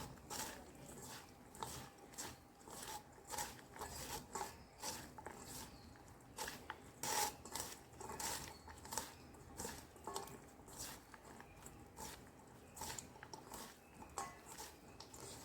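Hands gently mixing finely chopped raw green mango with salt, turmeric and red chili powder for a pickle, faint soft squishing and light clinks of a bowl in a quiet room.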